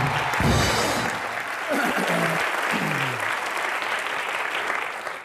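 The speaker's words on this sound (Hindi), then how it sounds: "जोरदार तालियां अनुपम सर के लिए" Studio audience on a comedy talk show gives loud, sustained applause for Anupam Kher, dense clapping with crowd noise filling the whole stretch as a voice speaks briefly over it.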